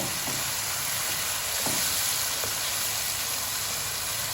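Chicken fries in a pan of hot oil with tomatoes and chillies for bhindi gosht, a continuous dense sizzle with a few faint stirring scrapes; no talking.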